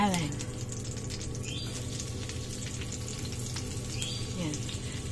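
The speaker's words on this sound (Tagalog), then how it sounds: "Pwede na natin ilagay ang ating bidabidang sibuyas at" Onion and garlic sautéing in rendered fat for Ilocano igado, a dense steady sizzle close by with occasional scraping.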